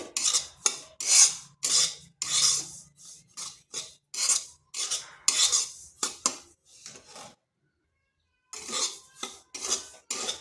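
A utensil scrapes and stirs semolina roasting in a pan, in steady rhythmic rasping strokes up close, pausing briefly before the scraping resumes.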